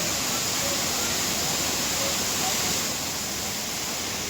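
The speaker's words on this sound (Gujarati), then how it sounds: "ઝરણાનો એટલો અવાજ છે કે તમારો અવાજ સાંભળવો મુશ્કેલ" A mountain stream at the Sundha Mata site in Rajasthan pours in a dense, continuous roar, loud and close, with faint voices barely audible beneath the water.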